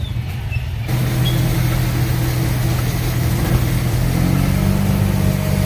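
Road traffic jammed near Kasarwadi, heard as a steady low rumble of car and truck engines idling and creeping along, close and continuous, with no talk.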